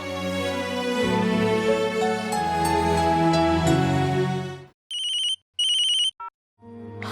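A telephone ringtone plays loud and close indoors, a melodic electronic ring continuing for several seconds before breaking into short repeated chirping bursts with gaps, no voices present.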